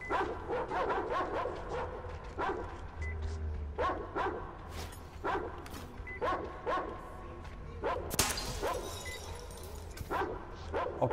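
Dogs in the video game Metro Exodus bark repeatedly in rapid, overlapping bursts, loud and close, with a sharp shattering crash near the end and occasional faint speech.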